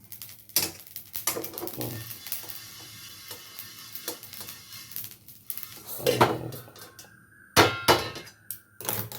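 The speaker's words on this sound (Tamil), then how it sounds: "படப்படப்படன்னு சத்தம் வருதுங்களா, அவ்வளோதான்." Coriander seeds dry roasting in a pan, sharp irregular crackles and pops over a faint background, with louder clusters of snaps toward the end.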